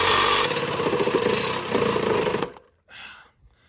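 A power cutting tool saws through a Mustang's old exhaust muffler, a loud harsh grinding buzz running steadily for over two seconds, then stopping abruptly, followed by a brief softer burst.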